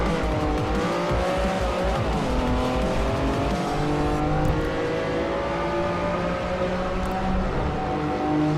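A Lamborghini races in Forza Horizon 4, its engine droning loudly and continuously as it rises and falls in pitch through the gears, with tires squealing in the corners.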